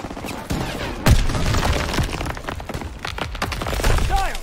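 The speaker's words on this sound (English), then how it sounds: "Gunfire! It must be near our guys." Battle gunfire in the woods from the World War II shooter Call of Duty: WWII, with sharp cracks and bursts of shots over a busy, loud battlefield din, including one heavy blast partway through.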